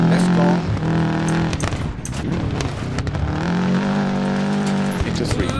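Rally car engine in Dirt Rally 2.0, a Holden Monaro with overly stiff suspension, revs loudly and steadily throughout with gear-shift dips, while co-driver pace-note calls are spoken over it.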